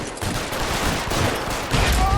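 Gunfire in the video game L.A. Noire, a dense loud volley of overlapping shots and bursts that stays continuous, with a faint voice underneath.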